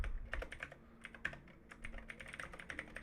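Someone types a systemctl command on a computer keyboard, giving a quick, quiet run of close key clicks and taps over a faint steady hum.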